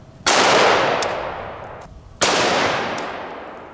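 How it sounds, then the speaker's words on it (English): Two AK rifle shots, loud and close, fired at a metal water fountain with full metal jacket rounds, each a sharp blast followed by a long ringing decay, spaced about two seconds apart, with no voices. "I'm gonna shoot the bottom one more time."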